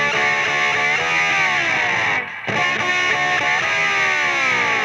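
Lead guitar played with a metal slide and backwards echo, a loud distorted sliding tone with swelling reversed echoes, briefly dropping out midway before returning.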